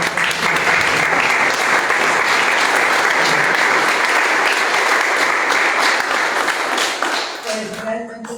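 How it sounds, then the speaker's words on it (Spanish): Sustained audience applause after a live musical performance at a cultural event, a dense, steady wash of clapping from a full room that holds for several seconds before thinning out near the end. "Vamos a darle otro gran aplauso."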